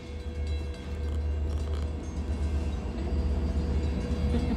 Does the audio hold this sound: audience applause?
no